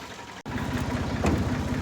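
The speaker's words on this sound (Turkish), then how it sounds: "Şimdi traktörle tarlaya gidiyoruz." A tractor engine idles and chugs on the way to a field in a village, a low, steady rhythmic rumble close by after a brief cut near the start, with no talk.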